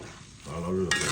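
Shrimp curry stirred in a frying pan makes a brief close sizzle with a scraping swish, rising in loudness toward the end of the short moment.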